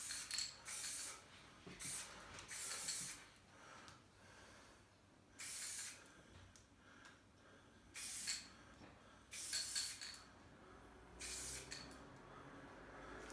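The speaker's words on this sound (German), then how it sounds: "wenn man anfängt zu sprühen, dann haben die noch ein paar Spritzer" Spray paint can hissing onto a street-art stencil of a face, in about six sharp bursts of one to two seconds each, separated by quieter gaps with faint handling noise; no one speaks.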